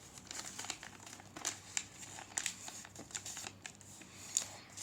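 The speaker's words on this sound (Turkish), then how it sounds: "Sonra uçağı böyle katlıyoruz." Sheet of paper being folded into a paper airplane: soft, close crinkles and crisp creasing rustles in irregular bursts, fairly quiet with no talking.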